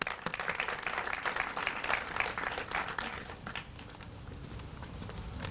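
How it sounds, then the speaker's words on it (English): Audience claps for a speaker at a county 2020 Census launch event, a moderate, fairly distant patter of hand claps from a modest crowd that thins toward the end. "Let's give him a round of applause."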